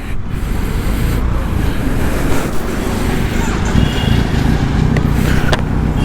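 A 2022 Kawasaki Z900 inline-four with an aftermarket exhaust idles in neutral, giving a steady, dense low rumble that holds even throughout, with some wind noise over it.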